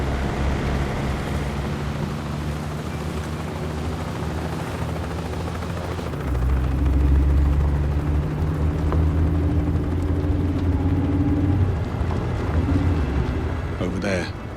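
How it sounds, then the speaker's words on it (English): A helicopter approaching in the video game 007 First Light, a low rotor drone that swells louder midway under music and ambient game sounds, with voices talking over it. "Bavma's heli is inbound."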